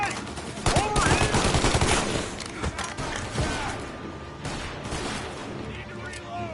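Gunfire in Mafia: The Definitive Edition, rapid overlapping automatic bursts and shots in a firefight, loud at first then easing, with shouting voices mixed in.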